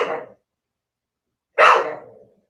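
A single dog lets out a short bark, then after a pause of silence a second, louder bark close to the microphone.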